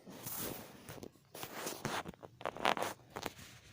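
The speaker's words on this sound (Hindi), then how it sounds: "इस तरह से दबा के हल्के हाथ से हम कटिंग कर लेंगे।" Scissors cut through stacked buckram stiffening fabric for a Patiala salwar, giving soft, close rasping snips in short irregular bursts with quiet pauses between them.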